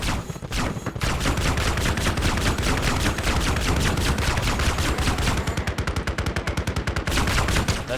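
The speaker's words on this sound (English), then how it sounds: "That's the machine gunner. He stayed behind and started to get the target" Sustained machine gun fire in the Arma 3 video game, with the OPTRE expansion installed, rapid continuous automatic bursts rattling loud and close for nearly the whole stretch after a brief opening shot.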